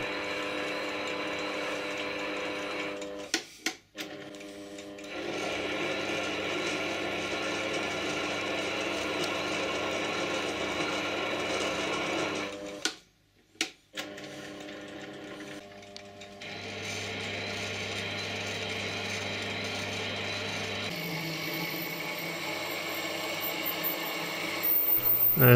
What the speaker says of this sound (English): So here we're just cutting some thread.